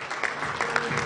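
Applause from an audience at the Merck Young Scientist Award ceremony greets a chemical sciences winner, a short steady patter of clapping filling the room.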